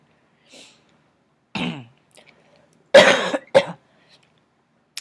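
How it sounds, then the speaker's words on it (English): A person coughs and clears their throat several times in a quiet room, short harsh bursts with gaps of silence between them, close and fairly loud. "truly apologize for the cough."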